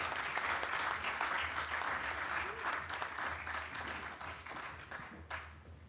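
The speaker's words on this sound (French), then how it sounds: "On peut l'applaudir." An audience at a discussion event on humanity's relationship with living things applauds, a thick wash of many hands clapping steadily and fading a little toward the end.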